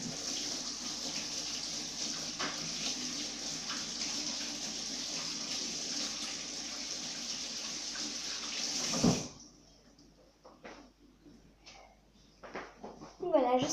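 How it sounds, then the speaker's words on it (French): Tap water runs steadily into a sink while hands are washed, a close, constant rushing splash that lasts about nine seconds before the faucet shuts off, leaving only quiet handling sounds and faint knocks. "Donc du coup, je vais tout de suite aller me laver les mains."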